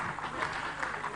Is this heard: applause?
yes